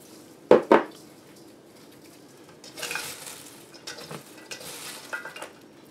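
Shredded cabbage being packed and salted for sauerkraut makes two sharp, close knocks, followed by soft, intermittent rustling bursts as handfuls of cabbage drop in and salt is sprinkled over.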